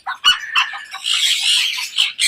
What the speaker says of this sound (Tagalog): Oh, galit na si manok natin.